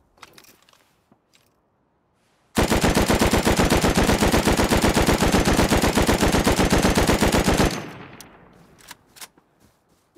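Gun in the game Rust fires one long, loud, unbroken machine-gun burst of rapid, evenly spaced shots lasting about five seconds, with near silence before and after.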